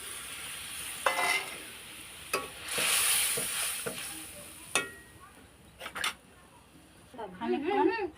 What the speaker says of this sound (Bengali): এবার দিয়ে দেবো সরষে বাটার জল।